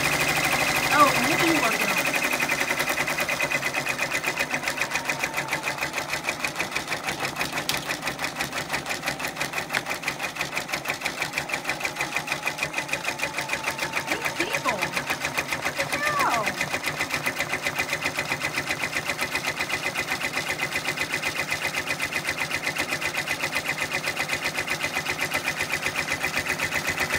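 A home embroidery machine stitches a cosmetic bag with a steady, rapid mechanical chatter that runs without a break from start to finish, while a person talks over it.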